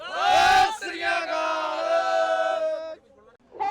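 A crowd of Sikh protesters at the 2020 farmers' protest answers the jaikara battle cry with a long, loud, sustained chorus of voices in unison, fading briefly before another call begins.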